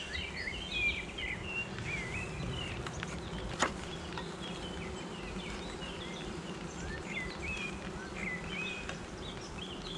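Honey bees at an open hive in an April apiary during swarm season drone in a dense, continuous buzz, with faint bird calls scattered above it.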